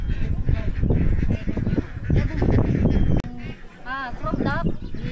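Ducks raised for balut and salted eggs in Concepcion, Tarlac let out a short series of nasal, honking calls near the end, after a stretch of people talking over farmyard noise.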